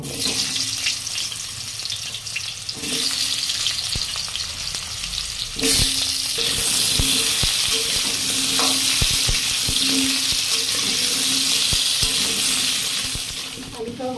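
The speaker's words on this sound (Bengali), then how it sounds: "তেলেতে আলুটাও ভেজে নেব" Potatoes fry in hot oil, a loud, continuous sizzle and crackle that surges as they go into the pan, with occasional utensil clinks and stirring throughout.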